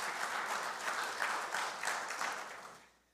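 A Unitarian Universalist congregation breaks into warm, sustained applause at a Sunday service, the many hands forming a dense even patter that fades out at the end.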